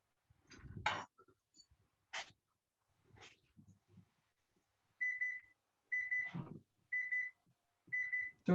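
An electronic kitchen timer goes off while biscuits bake in the oven, sounding four evenly spaced repeated beep bursts after some scattered faint clatter and brief noises, fairly quiet overall.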